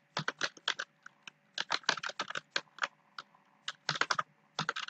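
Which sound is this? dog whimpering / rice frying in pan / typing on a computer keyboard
typing on a computer keyboard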